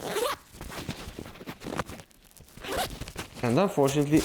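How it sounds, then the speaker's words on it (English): A zipper on a UltrAspire Alpha 6.0 trail running vest pocket is pulled in quick rasping strokes near the microphone, mixed with a person talking, with brief clothing-like rustles between. "the opening, as I said, it is a zipper, passes from one side to the other"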